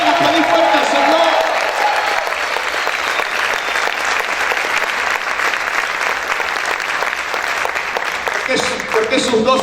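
A church congregation applauds loudly and steadily for the whole stretch, dense sustained clapping with a voice breaking through near the end.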